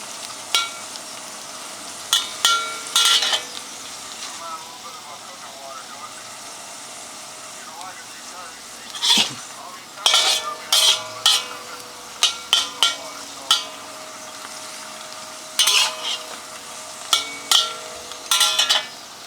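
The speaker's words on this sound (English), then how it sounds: "So I'm gonna cook and saute the sausages until it's slightly brown." Sausages sauté in a pan for pasta aglio e olio, with a steady close sizzle broken by bursts of scraping and clattering as they are stirred, coming in irregular clusters throughout.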